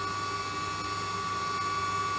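A DMG Mori DuraVertical 1035eco CNC machining center with its spindle running at 6000 RPM makes a steady, moderately quiet mechanical hum with a sustained pure whine tone over faint fan noise.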